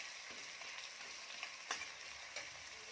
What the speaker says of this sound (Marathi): तर कांदा छान रंग बदलेपर्यंत भाजून घेऊया.